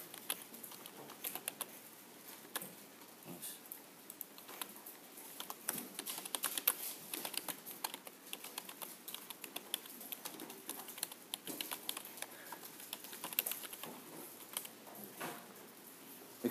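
Steady typing on a computer keyboard during a JavaFX programming demo: quiet, rapid key clicks in uneven runs with brief pauses, close and alone with no talking.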